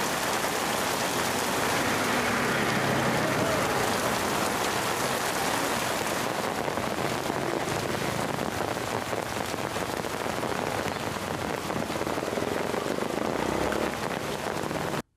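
Heavy rain pours down on a street in Kilinochchi, Sri Lanka, during Deepavali shopping, a dense, unbroken hiss of drops striking surfaces that holds steady and loud throughout, with no talking.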